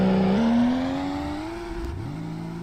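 A car in the Roblox video game launches and accelerates down a road, its engine note climbing steadily through gear changes as a loud, continuous whine that dips and rises again.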